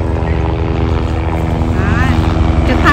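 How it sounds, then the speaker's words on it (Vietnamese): A police helicopter flies overhead at a beach in Brazil, its steady rotor and engine drone loud and continuous throughout, with some voices in the background. "Đây trực thăng cảnh sát cả nhà."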